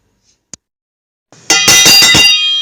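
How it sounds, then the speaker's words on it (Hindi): A bright metallic school bell rings several times in quick succession, loud and close, after a faint single tap, marking the end of a class. "अरे घंटी बज गई"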